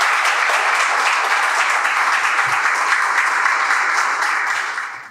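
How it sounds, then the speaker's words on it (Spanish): A large indoor audience at a formal lecture gives loud, sustained applause, dense and even throughout before fading out at the very end. "Con un fuerte aplauso vamos a recibir al general doctor Jorge Radamés Zorrillo Osuna"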